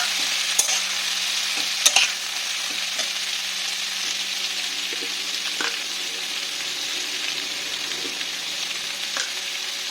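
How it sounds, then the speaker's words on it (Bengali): Sliced ridge gourd is stirred into a pan of frying onions and shrimp, with a close, continuous bright sizzle broken by a few sharp scrapes and clinks of the spatula against the pan. "এই পেঁয়াজ মাছগুলো ভাজা হয়ে গেছে তো আমি যে ঝিঙেগুলো কেটে রেখেছিলাম ঝিঙেগুলো দিয়ে"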